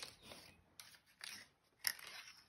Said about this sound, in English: we're going to cut out three hands